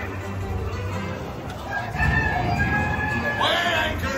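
Hens clucking and a rooster crowing amid the noisy bustle of a theme park pirate ride, steady background chatter and ride sounds with a louder burst of bird calls partway through.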